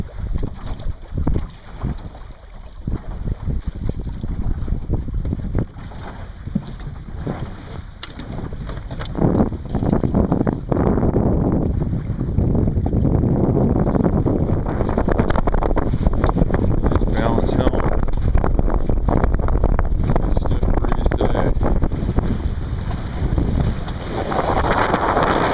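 A Montgomery 15 sailboat under sail on Tomales Bay on a cloudy day, with a steady, loud rush of wind buffeting the microphone over water noise and faint voices throughout.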